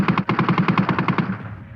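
German machine gun fire on a First World War Somme battlefield: a rapid, steady burst of about a dozen evenly spaced shots, loud and close, trailing off into a fading echo.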